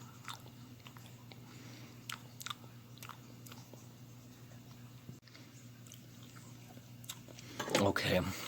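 Someone chews canned fruit from 1962 close to the microphone, with soft wet bites and a few crisp crunches over a steady background hum, ending in a louder rustle.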